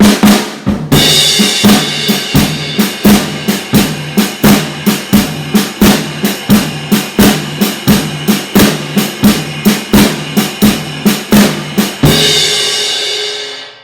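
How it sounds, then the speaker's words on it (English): A drum kit plays a steady, driving double shuffle groove, with sharp regular hits and cymbals ringing on after the final stroke. "that is your double shuffle"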